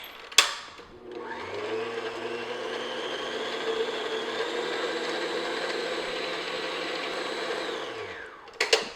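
An electric hand mixer beats egg yolk into chocolate shortbread dough, a steady close motor whir running for about eight seconds between brief clicks as it starts and stops, with no talking.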